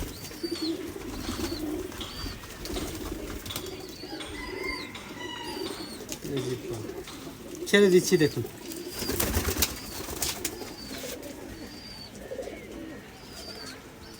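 Pigeons, including Teddy, Kamagar and Golden breeds, coo repeatedly at close range in a loft, soft rolling calls recurring throughout with someone talking over them.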